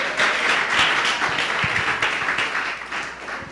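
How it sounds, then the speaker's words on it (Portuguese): A church congregation at a Sunday service in Rio de Janeiro's Catete breaks into dense, steady applause for the Lord, a broad wash of many hands clapping together that holds throughout and eases slightly toward the end. "Pode dar uma salva de palmas ao Senhor."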